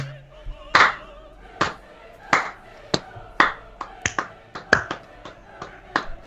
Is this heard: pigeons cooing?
no